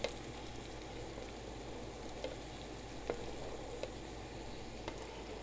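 Onions and tomatoes fry in a pan with a steady, even sizzle and a few faint clicks of stirring, close and continuous with no talking.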